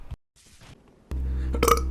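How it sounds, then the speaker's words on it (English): A person burps once, short and loud and close to the mic, after near silence broken by a brief thump. "I always seem to burp whenever I try to record stuff"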